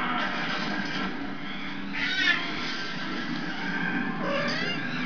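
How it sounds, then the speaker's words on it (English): A cat meows steadily and insistently over a continuous background, close and fairly loud, with a couple of more pronounced cries partway through. "This is my cat mom."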